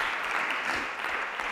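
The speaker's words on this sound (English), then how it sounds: "Somebody clap your hands for that" Church congregation clapping their hands during a sermon, a continuous, fairly loud roar of many hands clapping together with no break.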